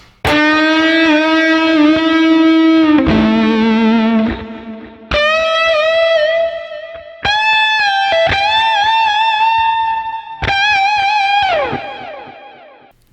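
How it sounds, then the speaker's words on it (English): Overdriven electric guitar notes bent with double and triple pumps, the pitch rising and falling in quick repeated pushes across several sustained phrases, played alone. "I like to do like the double pump or even the triple pump on a bend"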